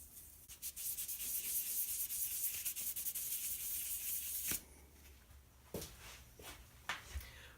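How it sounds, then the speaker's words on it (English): Sandpaper rubs across the bottom of a small turned wooden business card holder made from scrap wood, a steady scratchy rasp for about four seconds that stops abruptly, followed by a few brief rubbing strokes. "We'll just clean up the bottom with some sandpaper."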